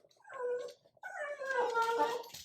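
Dogs whimper and whine in high, wavering tones, a short burst followed by a longer, more insistent stretch, close by.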